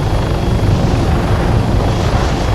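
Helicopter flight in the Arma 3 military game over hilly terrain: a loud, dense, steady rotor and engine roar that fills the whole stretch without a break, with no voices.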